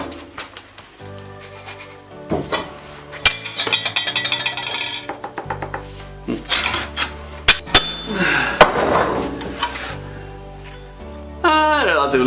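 A metal snow shovel hammered on a wobbly anvil during a DIY repair, giving scattered clanks and ringing metallic hits of varying strength, with loud bursts mixed with kitchen-like clinks and background sounds.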